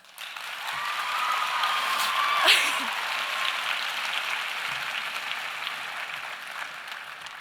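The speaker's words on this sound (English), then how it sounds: "giving a round of applause to the family and friends here today" Moderate applause from family and friends at a youth challenge academy commencement, a sustained even patter with a faint tonal whine and a brief louder burst near the middle, tapering slightly toward the end.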